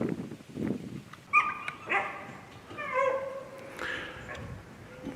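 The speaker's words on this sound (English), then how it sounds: "These three guys here are my guard dogs." Several guard dogs give a few yelping barks and whining calls at moderate distance outdoors at an urban deer-hunting spot, with short bursts scattered over a quiet background.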